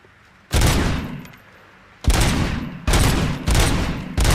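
Loud gunfire in RoboCop: Rogue City as targets are shot on a firing range, with a long heavy blast followed by several rapid bursts in close succession, booming and near with no speech over it.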